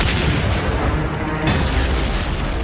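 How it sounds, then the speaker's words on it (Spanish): Dense, rumbling artillery blasts roll continuously, loud and heavy, like sustained distant fire merging into one thick roar. "Nos tanteaban con disparos de artillería."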